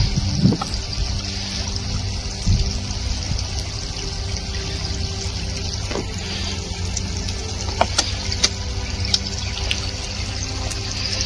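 Treated tertiary wastewater pouring out of a drain by a garden nallah, a steady close trickling and splashing flow with a few sharper drips and clicks scattered over it, no voices.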